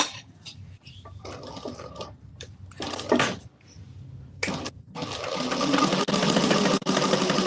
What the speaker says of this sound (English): Okay, sewing on the other piece.